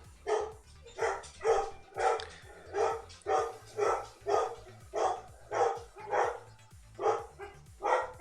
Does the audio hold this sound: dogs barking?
yes